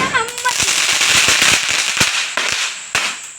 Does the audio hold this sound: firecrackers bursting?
yes